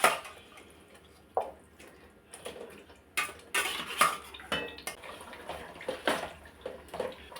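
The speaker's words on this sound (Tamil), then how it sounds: "இப்போ வந்து இந்த சிக்கன் எடுத்து இதில் போட்டுக்கலாம்." Chicken pieces go into a biryani pot with irregular clinks and clatters of utensils against metal, several soft thumps spread across the clip, close and fairly quiet, with no talking.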